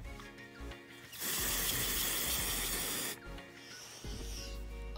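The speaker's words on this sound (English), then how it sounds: "time to put on my Xbox spray." Xbox body spray from an aerosol can hisses in one long, close, loud burst lasting about two seconds, followed by a shorter, softer spray after a brief pause.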